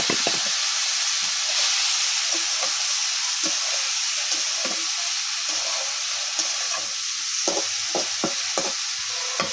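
Okra (bhindi) frying in a pan, a steady loud hissing sizzle with scattered soft taps and crackles of the spatula, close and continuous throughout.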